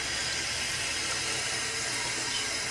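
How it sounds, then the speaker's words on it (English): Running tap water streams steadily into a sink as a kitchen knife is rinsed under it, a continuous close hiss with no speech. "Give our knife a quick rinse here."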